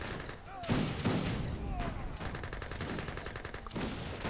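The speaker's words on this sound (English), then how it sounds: "Some artillery." Artillery and gunfire in Age of Empires 3 battle, a dense run of booming shots and crackling volleys with several heavy blasts, steady and fairly loud, with a voice talking over the fighting.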